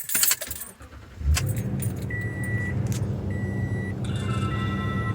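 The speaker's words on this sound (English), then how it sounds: "I'm just going to start it up here." Keys jangle up close, then a truck engine cranks and catches at once into a steady idle, joined by a few short dashboard chime beeps.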